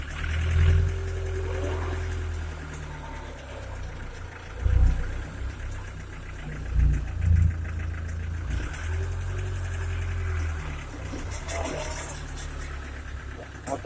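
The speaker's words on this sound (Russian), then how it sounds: "Коробка скуголит газоновская, без колика." A homemade tractor with a Mercedes diesel engine and a GAZon gearbox runs close by, its steady engine drone carrying a whining gearbox note with a few louder surges as it moves.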